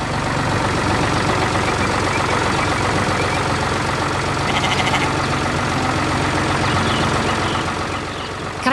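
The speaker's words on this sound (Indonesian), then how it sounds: "Dengan suara mesin yang tenang, traktor itu menggerakkan tanah dan menanam kehidupan baru." A heavy tractor engine runs steadily and loudly, a continuous low rumble that holds constant throughout with no pauses.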